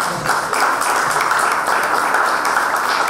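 A crowd claps for Lorenza, a sketch artist, at a press conference about a summer carnival, giving a loud, even burst of many hands that holds steady throughout with no pause and no talk on top.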